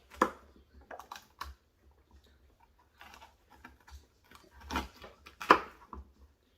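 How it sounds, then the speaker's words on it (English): A knife slices down the middle of a poblano pepper on a cutting board, giving a sparse series of faint, close ticks and crisp cuts with quiet gaps between them. "Start by cutting down the middle like this."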